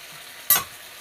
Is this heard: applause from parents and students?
no